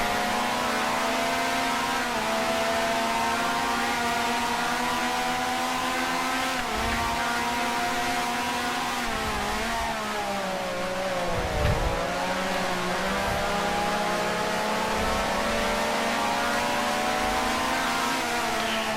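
Open-wheel race car engine in the Grand Prix Legends racing game, set at the 1965 Race of Champions, droning loud and steady close by, with pitch sweeping down and back up through a corner and brief tire noise; no voices.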